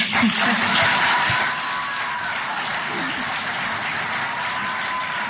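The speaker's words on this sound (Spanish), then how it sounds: "Ovación, ¿eh?" Ovation from a crowd at a Chilean political event, steady dense applause with cheering, slightly louder at first then sustained at an even level, with a voice partly over it.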